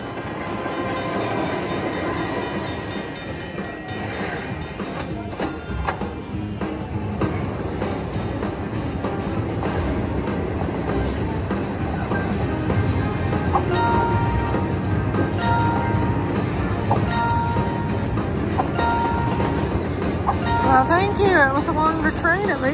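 A train sound effect from a slot machine bonus game rumbles and clatters continuously with rail clicks, while a person talks over it amid casino-style electronic chimes.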